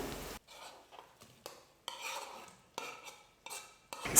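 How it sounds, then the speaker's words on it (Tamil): Mushrooms being stirred into biryani masala in a pan over a medium flame: a spoon clinks and scrapes against metal in short irregular bursts with quiet gaps between them. "எல்லாத்தையும் சேர்த்ததுக்கப்புறமா ஸ்டவ்வை மீடியம் ஃப்ளேமில் வச்சுட்டு நல்லா மிக்ஸ் பண்ணி விட்டுட்டு இது கூடவே கலந்து வச்சுருக்கிற காளானை சேர்த்துக்க போகிறேன்"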